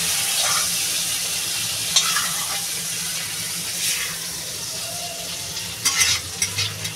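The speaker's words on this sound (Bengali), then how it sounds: "মাছটা আমার ভাজা হয়ে গেছে, মাছটা নামিয়ে নেব।" Fish frying in hot oil in a pan gives a steady close sizzle with a few sharper crackles and stirring clatters near the end, and no one speaks.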